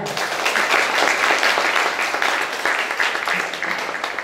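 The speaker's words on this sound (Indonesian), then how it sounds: "saya minta tepuk tangan yang paling meriah" An audience at a motivational training session for twelfth-grade students bursts into lively, sustained applause, a dense wash of clapping that stays loud and even throughout.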